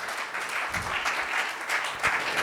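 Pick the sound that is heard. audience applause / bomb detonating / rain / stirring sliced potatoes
audience applause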